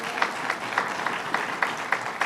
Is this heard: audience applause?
yes